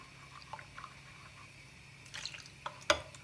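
Water poured into a large bowl while preparing salty ayran soup from the Artvin region, heard as faint scattered drips and a brief splashing near the end, close and quiet.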